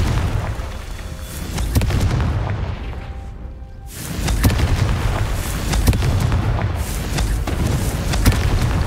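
Booming fire-spell explosions from Confringo in Hogwarts Legacy, loud blasts with rumbling low-end decay, a brief lull midway, then another heavy burst and crackling aftermath.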